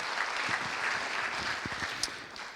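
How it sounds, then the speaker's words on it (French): Clapping from an audience at a business innovation award ceremony in the Sarthe, a steady patter of many hands, moderately distant and fairly soft, continuing evenly without talk. "Applaudissez Manicare et Gérald Eliez autour de ce trophée"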